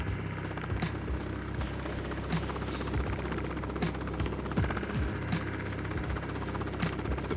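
A Coast Guard rescue helicopter churns with a steady, thumping rotor beat and constant engine drone at even loudness throughout, with no voices.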